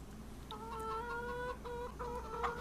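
Chickens cluck repeatedly in the farming video game Farming Simulator 25, a run of nasal, tonal clucks and short calls over a low steady background hum, fairly close and with no talk.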